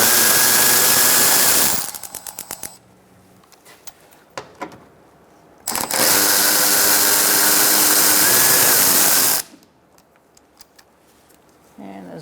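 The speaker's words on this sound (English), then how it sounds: "I'm going to use a 10mm socket to take out this bolt" A 10mm socket on a power tool removing a bolt from the forward engine splash shield of a 2004-2009 Mazda 3, two loud sustained whirring bursts with ratchet clicks and handling noise between.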